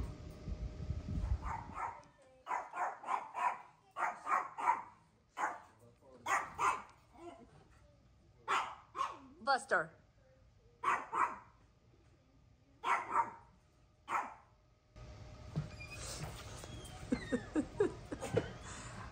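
Repeated short barks from a dog, in bursts with brief gaps, fairly close, with a quick spoken word and some background chatter near the end.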